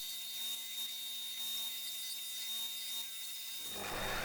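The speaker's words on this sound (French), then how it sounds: "Je viens maintenant donc faire les petits arrondis sur le lapidaire" A lapidary sanding disc rounds the small edges of teak wood, giving a steady, quiet whirring hum with a faint high hiss that shifts into rougher, louder grinding near the end.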